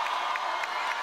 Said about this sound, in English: There's a lot of sarcastic applause that I see on the court right now.